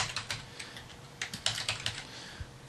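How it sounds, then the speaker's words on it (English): Quick irregular keystrokes on a computer keyboard, typing a company name into a logo design program, close and fairly quiet with no talking. "I'm just going to start out by just typing the name"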